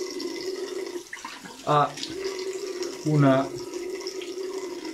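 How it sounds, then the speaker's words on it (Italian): Icy cold tap water runs steadily from a faucet as a face is rinsed, with two brief splashy bursts and a short spoken word in Italian over the flow. "Adesso mi sciacquo con l'acqua bella ghiacciata, perché l'acqua ghiacciata chiude i pori"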